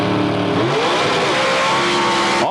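Mercury and Oldsmobile drag racing cars launch off the line side by side at a 1984 mountain motor drag race at Budds Creek, Maryland, with loud roaring engines revving and climbing continuously, close and dominant throughout.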